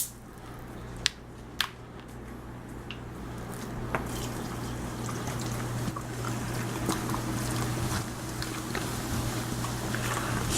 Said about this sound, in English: Pour the whole 7-Up in there.